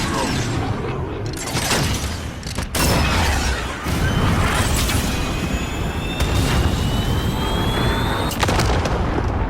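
Booming rocket explosion in a military video game, a dense loud blast with sustained rumbling, mechanical noise and whistling tones, continuous over several seconds with a sharp cut near the middle.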